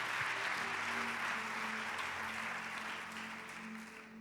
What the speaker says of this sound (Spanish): Por supuesto, aplaude al Señor.